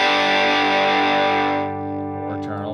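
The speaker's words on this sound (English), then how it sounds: "even with those settings, we're getting a relatively crunchy sound." A crunchy, distorted electric guitar through a Tone Master Pro rings out in a sustained chord, loud and steady, then drops to a quieter, fuzzy tail.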